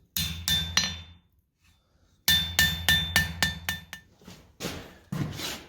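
A hammer strikes a hot chisel on an anvil at a blacksmithing hammer-in: bright, ringing metallic blows in a quick rhythmic run, a brief pause, then a longer faster series of close, loud strikes.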